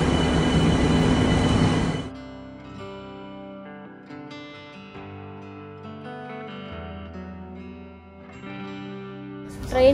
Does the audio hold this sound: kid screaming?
no